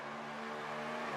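Drift cars racing at Ahvenisto in a drifting competition, with a BMW leading the pair, engines droning steadily at a distance in a brief, faint stretch with no talking.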